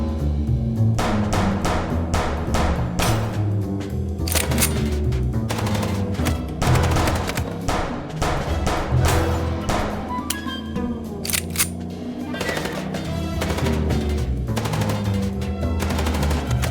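Rapid gunfire in the video game Chicken Police, dense bursts of close, loud shots crackling continuously over a low rumbling background with no talk.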